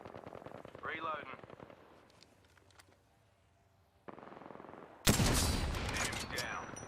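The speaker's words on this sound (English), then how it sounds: "Being shot at." Video game gunfire crackles in loud bursts, first faint and scattered under a voice, then a sudden dense volley of shots late in the clip.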